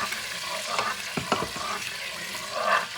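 A spoon scrapes the bottom of a pot while deglazing pot roast with Marsala wine, over a steady sizzle of simmering liquid, with a few short scraping strokes near the middle.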